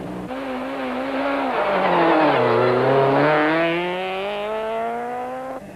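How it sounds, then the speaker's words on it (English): A VW Golf Synchro rally car at the 1991 Mountain Trail rally races along a stage, its engine loud and close, revving up and down in pitch through a corner, with no talk over it. "Second place Johan Evertse and Steve Harding take to the starting blocks in the VW Golf Synchro."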